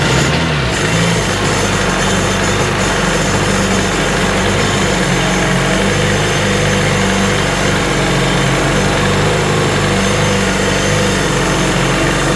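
A Sea-Doo RX DI watercraft engine runs out of the water on a flush hose, a loud, steady, close-up roar that holds throughout with no speech.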